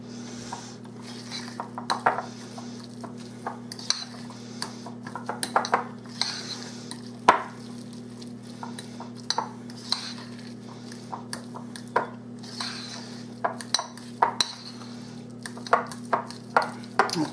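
A spoon stirs and mixes seasoned ingredients with feta cheese in a bowl, making repeated irregular clinks and scrapes against the bowl over a steady low hum.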